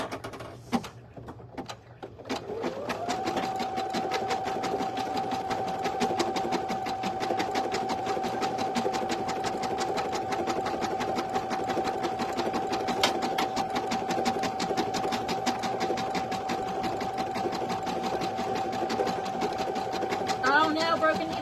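An embroidery machine stitches an in-the-hoop design, spinning up after a brief pause into a long, steady, loud mechanical hum with rapid needle ticking, and a voice talks over it.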